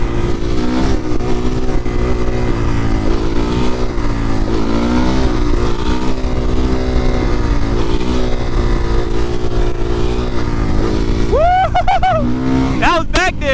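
Suzuki RM-Z450 supermoto engine running steadily at close range, a loud continuous drone with slight pitch swells, and a brief rev near the end; someone talks over it throughout.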